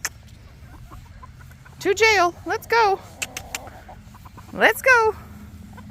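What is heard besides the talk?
chickens and roosters clucking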